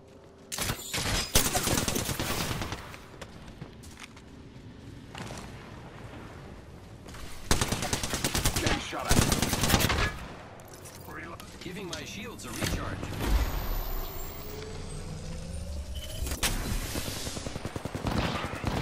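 Gunfire in the video game Apex Legends, with rapid automatic bursts and clustered shots over several seconds, loud and near, alongside a voice talking through the firefight.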